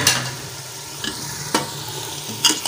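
Soaked red kidney beans fry in hot oil in a pot, a soft steady sizzle with three sharp scraping stirs spaced about a second apart.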